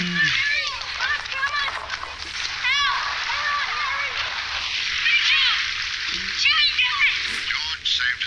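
A film scene of people falling into water: splashes and sloshing arrive in bursts among excited, high-pitched voices and children talking, with a continuous watery wash underneath throughout.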